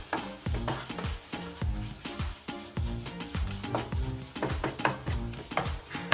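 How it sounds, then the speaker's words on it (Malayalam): Egg roast masala is stirred in a frying pan, with repeated scraping strokes against the pan at a brisk, even rhythm over a light sizzle, close up and without voices. "നന്നായി ഇളക്കുക."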